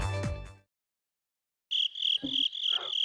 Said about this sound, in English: You're gonna have crickets are inbound.